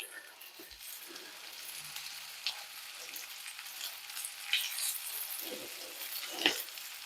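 Flour-dredged chicken frying in a pan gives a soft, steady sizzle and crackle, fairly quiet and close, with occasional louder pops and light clinks as pieces are turned.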